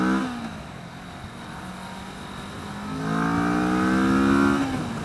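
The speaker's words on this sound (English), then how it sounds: "These are wide open throttle pulls, by the way, so you can see what it's got." 2015 Kawasaki Vulcan S Extended Reach motorcycle engine pulling at wide open throttle, a steady drone that swells after a few seconds into a louder, rising note, then eases at the end.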